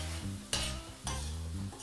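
Prawns sizzling in a frying pan over medium-high heat as they are turned, a steady close hiss with two sharp scraping stirs of a utensil against the pan.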